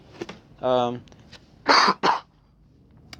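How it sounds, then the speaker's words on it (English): Two harsh, loud coughs close together, following a short voiced throat sound, in an otherwise quiet room. "I have a cough."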